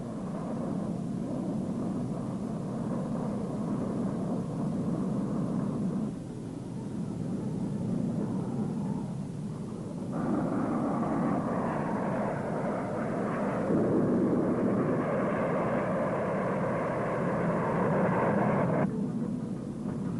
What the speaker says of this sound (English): This sequence shows a Convair F-102 Delta Dagger pilotless drone taking off as target.